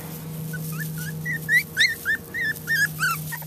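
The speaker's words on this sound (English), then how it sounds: "The poor puppy started crying." A puppy whimpers and cries in a run of high, thin yelps that rise and fall, close by and alone over a steady low hum.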